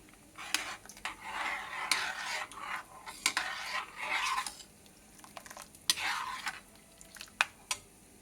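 Bondalu, small lentil fritters, frying in a pan while being stirred now and then, with soft sizzling broken by scraping utensil strokes and a few sharp clinks against the pan, close and fairly quiet.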